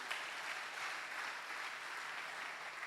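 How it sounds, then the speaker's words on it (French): A church congregation at a Sunday service claps steadily in praise, a broad, even wash of applause from many hands filling the room without a break. "Est-ce qu'on peut acclamer le Seigneur notre Dieu?"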